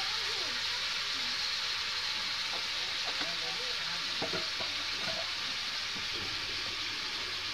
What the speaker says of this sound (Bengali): আলুকে ভাজবো